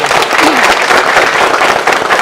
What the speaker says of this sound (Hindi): बधाइए जोरदार तालियां सर के लिए